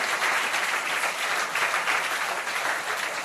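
A church congregation at a fasting prayer gathering claps hands together, a dense, continuous wash of applause at steady volume throughout.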